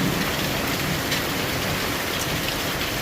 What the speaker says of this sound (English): Now the hail's coming down.